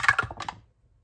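Percentile dice tumbling across a tabletop, a quick burst of several hard rattling clicks that dies away within half a second, close and fairly loud, followed by near silence.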